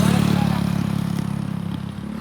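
A Yamaha R15 with 50,000 km on it cruises along a highway, its mid-pitched engine humming steadily and loud, with wind rumble and a faint clatter over a continuous drone.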